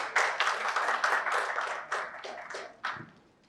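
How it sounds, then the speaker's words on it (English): A small audience at a business panel event applauds to welcome a speaker, with distinct close claps in quick bursts that taper off near the end. "Please welcome with a huge round of applause."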